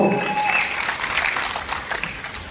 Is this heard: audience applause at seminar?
yes